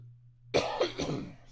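A single harsh cough bursts out of near silence, followed by a couple of rougher throat-clearing coughs in quick succession, close and fairly loud.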